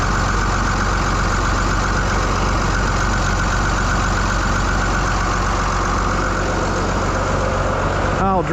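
The 1750 car's engine idles after its injector tees were replaced, a loud, steady, even rumble close by that holds constant throughout without revving.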